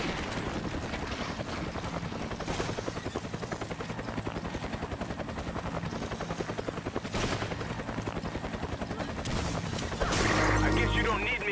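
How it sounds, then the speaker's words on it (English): Gunfire in the video game Resident Evil 5: rapid bursts of automatic shots repeating steadily over a rumbling game soundscape, with a louder burst near the end. "hear gunfire."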